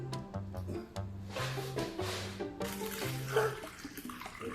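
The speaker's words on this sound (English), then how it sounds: "I'm gonna take the water. Pour it in." Water being poured into a plastic bag, a bright close splash and trickle heard over background music.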